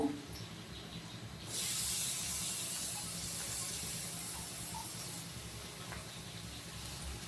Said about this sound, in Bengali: রসুনটা দিয়েও ভেজে নেব